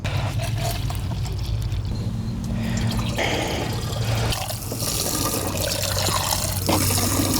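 Liquid soil amendment with molasses pours into a backpack sprayer, a continuous close gurgling splash that shifts tone as the tank fills, with a few drips near the end.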